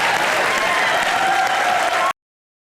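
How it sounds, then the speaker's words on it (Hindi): Studio audience on a Hindi comedy show bursts into loud, sustained applause and cheering for the Ghayal Once Again team, a dense wall of clapping that stops abruptly after about two seconds. "घायल वंस अगेन के लिए जोरदार तालियां हो जाए।"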